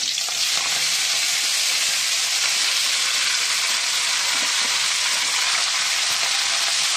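Spinach greens and slit green chillies tipped into a hot oiled pan, setting off a loud, steady, close sizzle that hisses continuously throughout without pause or voices.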